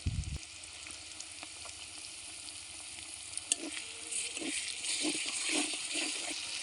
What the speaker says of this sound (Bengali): পেঁয়াজগুলো কিছুক্ষণ ভাজা হলে এর ভিতরে দিয়ে দেবো গোটা গরম মশলা